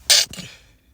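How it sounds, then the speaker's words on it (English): One sharp, close sneeze bursts out loudly and cuts off quickly, followed by a short fading breath in an otherwise quiet room. "sneeze coming."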